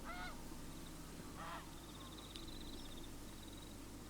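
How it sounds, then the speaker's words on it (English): Canada geese and other geese honk on a shallow, weed-choked lake where they feed on the bottom, a few harmonic calls at the start and middle over steady low background rumble, with faint distant bird chirps. "there's geese and a few Canada geese over there feeding on the lake bottom."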